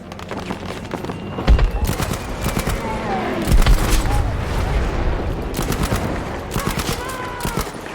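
Rapid bursts of gunfire from a weapon with heavy recoil in the video game Battlefield V, loud and close, firing in repeated volleys with other shots and battle noise around them.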